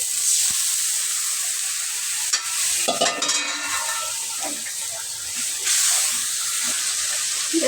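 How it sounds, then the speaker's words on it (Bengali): Ground spice masala of turmeric, chili, garam masala, cumin and coriander powders sizzles and hisses steadily in a pan with a splash of water while being stirred for a chicken curry, with faint talk at moments. "সামান্য একটু পানি দিয়ে মশলাটা কষাই নেব"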